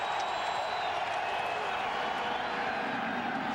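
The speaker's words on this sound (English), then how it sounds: "listen to the crowd here" A football stadium crowd keeps up a dense, steady roar of cheering, broad and distant, holding at an even level the whole time without a break.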